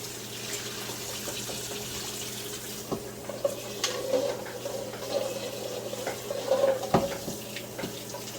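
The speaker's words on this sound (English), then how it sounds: "I'm going to pour this hot water off these boiled eggs and run some cold water on them." Cold tap water runs steadily into a pot of boiled eggs in a kitchen sink, a continuous close splashing hiss with occasional clinks and bumps of the eggs and pot.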